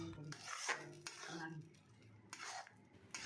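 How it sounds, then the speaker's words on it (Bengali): A yam and prawn mixture with turmeric, sugar and a little water is stirred in a kadai over a low flame, giving quiet, close scrapes and clinks of a utensil against the metal with a faint sizzle. "একটু শক্ত না হওয়া পর্যন্ত কিন্তু এভাবেই এটা নাড়াচাড়া করে যেতে হবে, না হলে কড়াইয়ে লেগে যাওয়ার সম্ভাবনা থাকে।"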